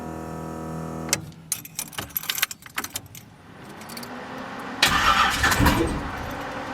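A Chevrolet S10 truck fitted with a V8 engine cranks several times with rapid uneven bursts, then catches and settles into a loud, steady idle close by, with keys jingling at the start.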